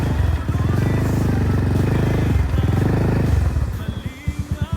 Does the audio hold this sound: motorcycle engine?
yes